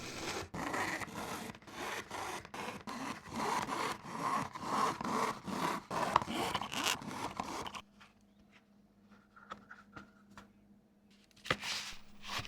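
Hand sewing of leather pieces for a jellyfish-shaped bag: close, rhythmic pulls of thread through leather with scraping strokes for several seconds, then near quiet with faint handling sounds.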